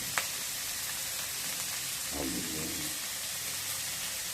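Mango and drumstick curry with tomato and onion sautéing in a pan, giving a steady, soft sizzling hiss throughout with a brief low murmur partway through.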